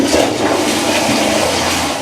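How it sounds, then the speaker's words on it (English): A Horow X70 smart toilet flushing with its lid open: a steady, close rush of water runs through the whole moment at even loudness, with no talking. "Oh, it will flush with it open."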